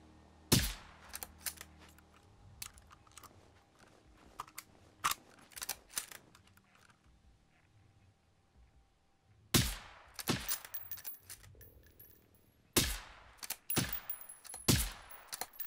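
Gunfire aimed at a satellite in the Generation Zero video game, with sharp shots standing out loud and close, first scattered one at a time and later grouped in small clusters, separated by quiet stretches of low background noise.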